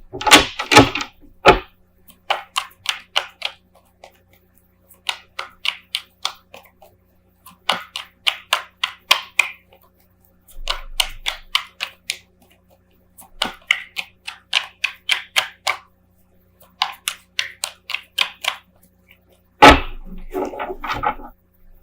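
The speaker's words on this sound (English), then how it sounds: "Just gather all the cards here." Tarot cards gathered into a pile and shuffled up close, heard as repeated short bursts of crisp papery riffling and tapping separated by brief pauses, with no voices.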